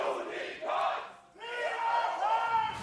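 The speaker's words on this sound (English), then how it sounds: "the game the audience is playing right now, which is who can cheer louder" Esports crowd at a 2019 Worlds Play-In match cheering and chanting loudly in big rhythmic roars. One surge dies away, then a second swell builds and holds, with tonal chanting and no commentary.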